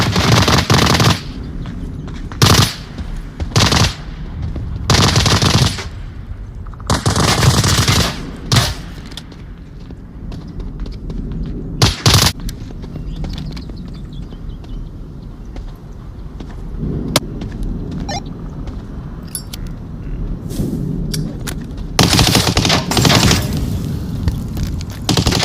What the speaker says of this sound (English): I shot him 3 times.